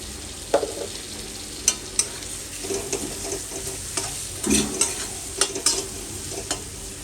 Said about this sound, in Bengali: তো এটাকে আমি মোটামুটি ভালো মতো এখন কষিয়ে নেব।